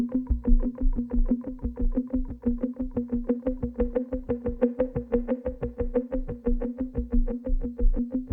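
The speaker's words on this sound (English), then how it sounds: "Then we had a second layer of drums." A second layer of drums from a sample library plays a steady, driving pattern of punchy hits with booming low thumps, repeating evenly and loudly across the passage with no voices.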